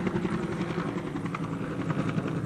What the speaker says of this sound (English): Let's give you a look at this helicopter that's going over here.